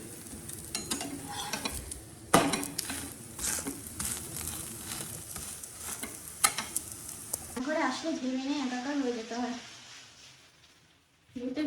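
Battered food fries in a pan in a home kitchen with a steady sizzle and clinks of stirring. Someone talks over the cooking near the end.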